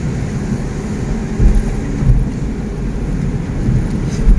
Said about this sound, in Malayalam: മഴ മഴ മഴ